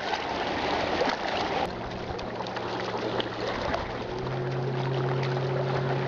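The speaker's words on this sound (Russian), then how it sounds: "Мы с папой на лодочке, нас качает на волнах." A small boat carrying two people rocks on waves, giving a continuous rushing, sloshing wash of water with a low engine-like hum joining in partway through, close and fairly loud, with no talking.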